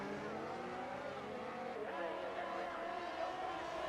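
Race cars in a sim racing league at Belgium, a steady blended engine roar from several closely bunched cars running together on the track, fairly loud and continuous.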